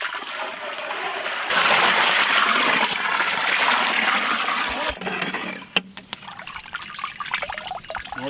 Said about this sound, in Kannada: ಚಿಕನ್ ಅರ್ಧ ಬೆಂದಿರಬೇಕು, ಅವಾಗ ಹಾಕಬೇಕು ನೀರು.